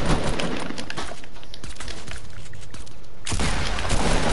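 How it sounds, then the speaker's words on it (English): A shotgun booms in Fortnite amid busy gameplay noise, with loud broadband blasts at the start and a sharp burst near the end, set against crackling background effects. "the new sound of the shotgun?"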